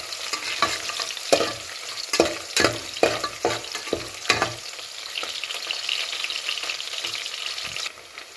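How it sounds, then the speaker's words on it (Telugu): Chopped onions and green chilies fry in oil in a pan for home-style tomato rice, a steady sizzle punctuated by several scraping stirs of a spatula, then settling back to even frying. "ఇప్పుడు నేను ముందుగా తరిగి పెట్టుకున్న ఎర్రగడ్డ, పచ్చిమిర్చి వేసి ఇలా మిక్స్ చేయాలి"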